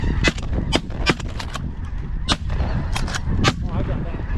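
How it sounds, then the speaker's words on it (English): Shotgun blasts crack out repeatedly during a snowy North Dakota duck and snow goose hunt, several sharp loud reports spread across a few seconds, with geese honking and calling in the background. "Thad, shoot him."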